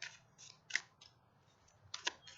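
A thin-cardstock deck of playing cards is shuffled by hand in the air, giving soft, quiet riffling flutters and light snaps in a few short bursts, with no talking.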